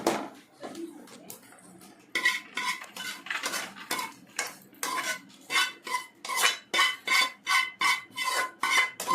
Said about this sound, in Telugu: రవ్వ బాగా వేయిస్తూ ఉందండి నెయ్యిలో.